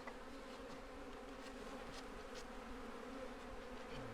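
Honeybees from a rescued colony taken from a chimney hum in a steady, close swarm, with the drone of individual bees rising and passing over it.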